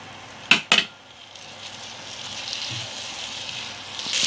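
Chicken added to a hot pan for a Chinese bread chicken roll, two quick clanks of metal followed by a rising, steady hiss of sizzling oil, close and without speech.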